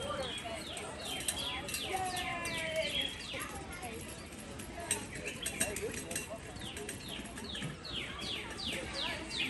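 A bird sings outdoors at Magic Kingdom among a busy crowd, repeated bright chirps and trills across the whole stretch under steady chatter and voices.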